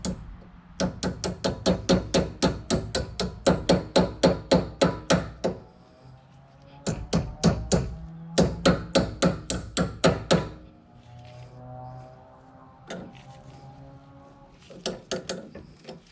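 Rapid bursts of sharp metallic tapping on a trailer hub while a cotter pin is worked in, several fast rhythmic volleys separated by pauses, close and fairly loud, with no talking.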